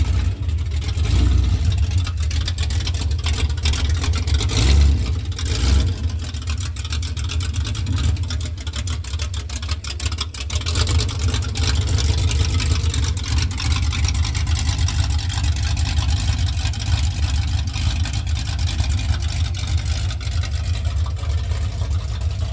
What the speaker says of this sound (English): There's a magnificent engine rolling by.